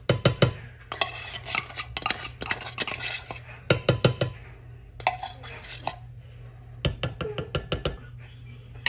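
Cream of mushroom soup being stirred into cooked egg noodles in a pot, a spoon clanking and scraping in repeated bursts of clinks against the pan, close and fairly loud, with no talking.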